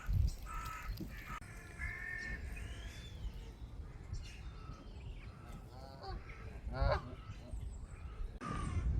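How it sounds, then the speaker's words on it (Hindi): Crows cawing and other birds calling among trees outdoors, repeated harsh calls near and far over a steady rustling background. "परिंदों की आवाज़ें, बहुत ही मज़े का सीन होता है"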